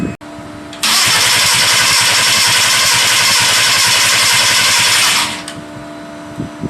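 A Volkswagen Corrado's starter cranks loudly and continuously for about four seconds as the engine tries to start, close up, with no voices over it.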